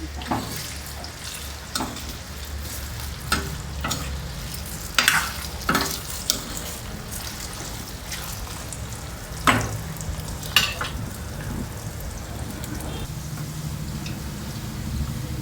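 Brinjal pieces fry in oil while being stirred, a steady close sizzle with recurring scrapes and knocks of the spoon against the pan.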